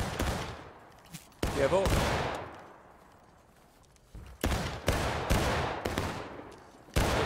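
Repeated musket volleys ring out in a Civil War battle game, several loud sharp crashes spaced a second or so apart, each trailing off, with a voice calling out between them.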